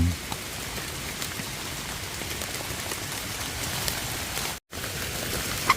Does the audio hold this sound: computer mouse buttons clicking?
no